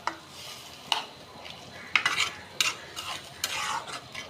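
Spiced chickpeas are stirred in a frying pan, with a spoon scraping and knocking the metal in irregular strokes over a soft sizzle, close and alone.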